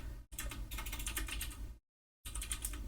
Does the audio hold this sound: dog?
no